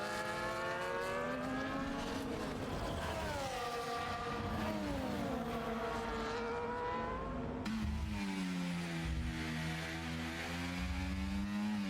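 Race cars in a Singapore race, one on newer hard tires overtaking with DRS: loud, sustained high-revving engine whine with rising and falling pitch, a second engine joining close by as the pass happens.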